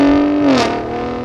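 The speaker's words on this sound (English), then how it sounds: "that new exhaust that we have from this V6, I think it does sound a lot better than the previous generation" A 2022 Ford F-150 Raptor's 3.5-liter EcoBoost V6 gives one short, loud, close rev through its new exhaust, the pitch rising and then dropping away.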